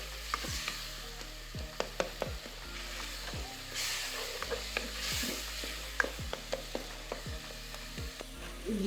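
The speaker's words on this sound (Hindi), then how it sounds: "अभी हम इनको डाल देते हैं। इनको भी अच्छी तरह भून लेते हैं।" Coriander and chilli spices fry in a pan for karela gosht, a steady sizzle broken by repeated sharp scrapes and clicks of a spoon stirring against the metal, close and moderately loud with no voices.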